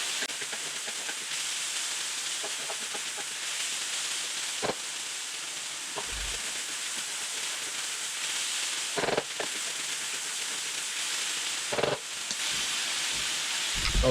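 Vegetables stir-frying in a hot wok for lobster Singapore noodles: a steady, close sizzle and hiss throughout, with occasional clinks and scrapes of stirring.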